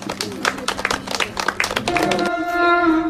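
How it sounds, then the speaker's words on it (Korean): An audience applauds a salpuri dance by a Yeongnam intangible cultural heritage holder, loud dense clapping that fades after about two seconds as sustained music tones begin. "다 같이 큰 박수 주십시오"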